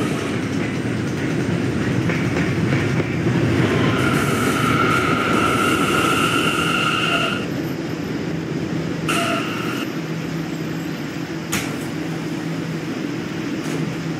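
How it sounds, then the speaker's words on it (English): An E subway train on the 5th Avenue line at Fairview Avenue rolls past with steady rail rumble and faint clickety-clack, punctuated by tonal whines and chimes, fairly close and continuous with no talking. "This is a West Platon bound E train via the B line."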